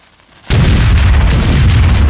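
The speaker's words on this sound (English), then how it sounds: "This reproduction of a wrought-iron cannon is very similar to the original." A reproduction wrought-iron cannon fires a single sudden, loud blast after a brief near-silence, followed by a heavy, sustained roaring rumble close by.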